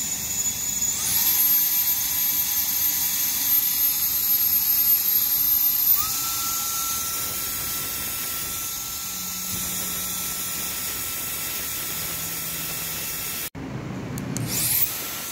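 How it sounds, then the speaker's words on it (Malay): A KEELAT mini turbo fan runs at normal speed with a steady, high-pitched whine and airy hiss that holds for about fifteen seconds, then ends with a brief clatter near the end. "Okay, kita test padu tak padu kipas ni."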